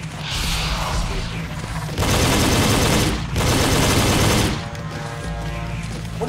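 Minigun in the dinosaur-hunting shooter Jurassic: The Hunted, firing in long continuous bursts. The roaring rattle is loud and close and pauses briefly between bursts.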